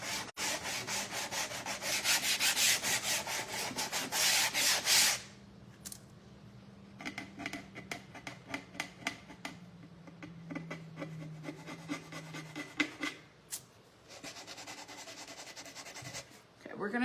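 Sandpaper rubs over a painted wooden bird hotel, first a loud continuous scraping for about five seconds, then shorter irregular strokes with pauses, close and dry.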